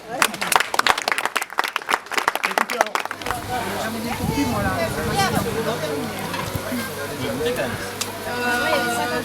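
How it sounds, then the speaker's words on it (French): An audience at a gathering in Cissac-Médoc bursts into loud, close applause for about three seconds, then the clapping gives way to a steady hubbub of crowd chatter and background noise. "Et on peut applaudir."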